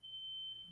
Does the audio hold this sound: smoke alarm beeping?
yes